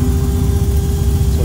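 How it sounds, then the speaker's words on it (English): A classic GMC truck engine idles steadily at a classic truck meet in Houston, a deep continuous rumble with a faint whine and background chatter. "That sounds like an LS swap."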